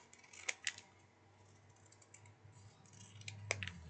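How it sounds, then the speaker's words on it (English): Scissors snip into the fabric of a jacket to angle a pocket opening, giving a few sharp, close clicks near the start and a couple more near the end over a quiet room hum. "I'm going to take my scissors and I just want to snip"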